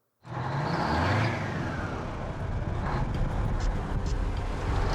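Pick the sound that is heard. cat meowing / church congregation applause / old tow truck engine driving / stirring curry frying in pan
old tow truck engine driving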